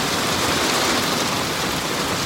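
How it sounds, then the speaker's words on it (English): Steady heavy rain pours down around a shelter on the Katy Trail, a dense, loud, unbroken hiss that lasts the whole moment with no voices. "But rain is slowing down."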